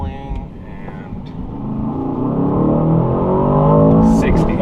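An Aston Martin DBX 707 prototype accelerates in sport mode, its engine note climbing steadily in pitch and growing louder from inside the cabin, with faint talk underneath.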